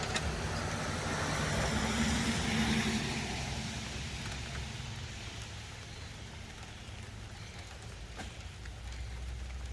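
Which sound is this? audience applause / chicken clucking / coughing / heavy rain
heavy rain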